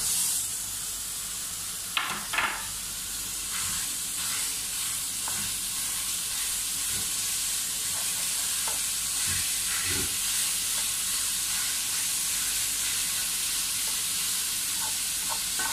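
Meat frying in butter in a pan, a dense, even hiss of sizzling that carries on throughout, with a few faint clicks and scrapes near the start and no talking.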